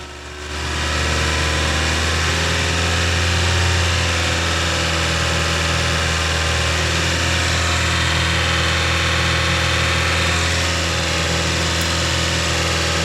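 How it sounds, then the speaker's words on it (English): A Hyundai i30 car engine runs steadily at a raised, constant speed around 2500 RPM, a loud continuous hum with no talking. "I'll give it some throttle to keep it revving around 2500 RPM."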